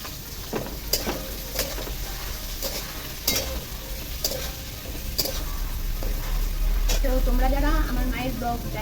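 Potato and papaya pieces are stirred and fried in a pan at home, with repeated scraping spatula strokes over a continuous sizzle that grows louder; a voice speaks near the end.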